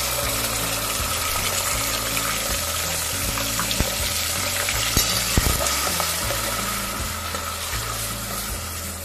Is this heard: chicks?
no